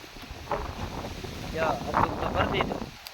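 Gusty wind buffeting the microphone in uneven rushes, with faint talk underneath.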